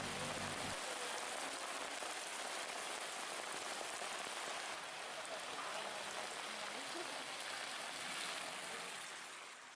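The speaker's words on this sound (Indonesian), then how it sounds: "Di bawah guyuran hujan lebat" Heavy rain pours steadily and loudly on a surface in a flooded village in Banjar, Indonesia, a dense, continuous hiss with no break throughout.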